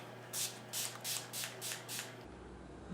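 Six quick hissing bursts of a makeup fixing spray bottle, evenly spaced, close and fairly soft, followed by quiet.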